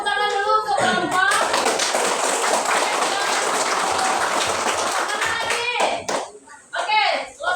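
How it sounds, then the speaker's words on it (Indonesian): A class of children claps for a group of classmates in a school lesson. The clapping is loud, close and dense, with children's voices chattering around it, then breaks off into scattered claps and talk. "Kasih tepuk tangan dulu ke kelompok"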